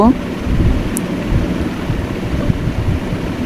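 Sliced onion and garlic hit hot oil, giving a loud, steady, dense sizzle with a low rumbling undertone that holds unbroken for a few seconds.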